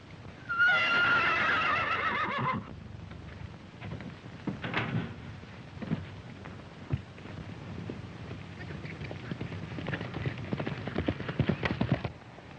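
Horse neighing loudly at the start, followed by hooves clip-clopping in an irregular rhythm on open ground in a 1935 western film, moderately close.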